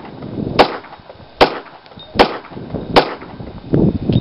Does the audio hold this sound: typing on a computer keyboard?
no